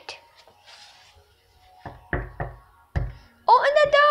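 Several sharp knocks on a door land in uneven bursts, loud and close, with a voice briefly heard between them.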